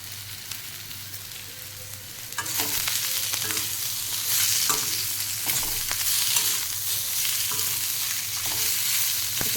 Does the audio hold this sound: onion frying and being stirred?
yes